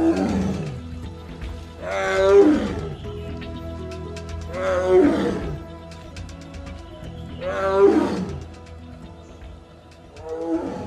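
A Sumatran tiger from Riau province, Sumatra, roars four times, each a loud, deep, drawn-out call spaced about three seconds apart, close and prominent over a steady tonal background.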